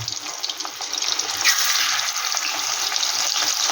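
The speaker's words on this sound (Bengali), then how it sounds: "এবার আমি মাছগুলো দিয়ে দেবো। এই মাছগুলো কিন্তু খুব একটা কড়া ভাজবো না।" Gurjali fish sizzling as the pieces fry in hot oil, a steady loud hiss with crackling spatter that swells after the fish goes in, with no talking.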